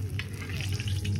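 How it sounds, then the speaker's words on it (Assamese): Papad sizzles and crackles in very hot oil at a picnic cookout, a close, continuous frying hiss with bright bubbling bursts over a low steady hum. "এতিয়া ভাজিম আমি পাপৰ"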